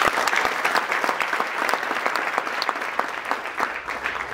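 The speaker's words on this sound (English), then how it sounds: "I want us to give him a big round of applause." An audience at a sports-development event applauds warmly, steady crisp clapping from many hands for several seconds with no talk over it.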